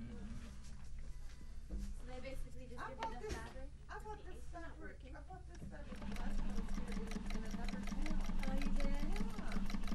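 A JUKI 1541s sewing machine stitches fabric. Its fast, even mechanical chatter builds up midway and grows louder and steadier toward the end, with voices and movement sounds before it.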